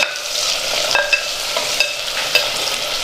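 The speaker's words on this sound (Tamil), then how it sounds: "நல்லா வதக்கி விடுங்க." Two large sliced onions sizzle and fry steadily in a pan while being stirred, with occasional scraping of the spoon over a continuous close hiss.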